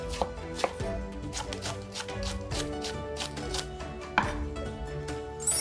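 Knife chopping through spring onion stalks on a cutting board for milkfish otak-otak, a steady run of crisp, close taps with a few sharper knocks, no talking.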